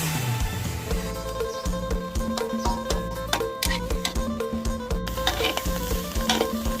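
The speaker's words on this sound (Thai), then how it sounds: "แล้วนำจักระจันมาคั่วลงในกระทะครับ เติมน้ำลงไปนิดนึงครับ" Cicadas roast in a frying pan with a splash of water, giving a loud, close sizzle broken by repeated scraping and stirring strokes against the pan throughout.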